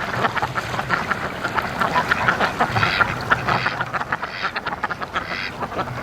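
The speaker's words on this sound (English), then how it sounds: "We got a couple ducks over here" Free-range ducks quack repeatedly in a steady, overlapping chorus close by, with bursts of loud calls over an outdoor background through the whole stretch.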